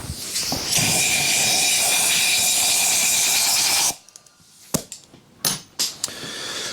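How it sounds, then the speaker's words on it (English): Compressed air from an air hose blasts through the spark plug hole of a 1968 Harley XLCH motorcycle engine, a loud continuous hiss lasting several seconds, followed by a few short sharp bursts. "I'm gonna grab the air hose and just blow out some of the crap that fell into this through the spark plug hole"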